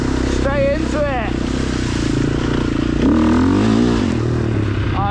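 A dusty motorcycle being ridden, its engine a steady loud drone with shifting pitch as it revs, with a person speaking over the engine noise throughout.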